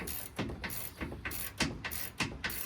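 Ratchet wrench snugging control arm bolts on a truck suspension during a lift install, a faint series of uneven clicking ratchet strokes at close range with no talking.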